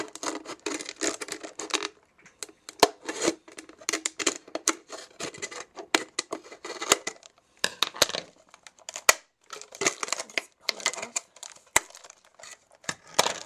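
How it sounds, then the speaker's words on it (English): Repeated crisp snipping and crinkling as scissors cut through a thin plastic bottle, in irregular bursts with short pauses, close up and fairly loud. "you can also use a scissor to cut the rest of this plastic"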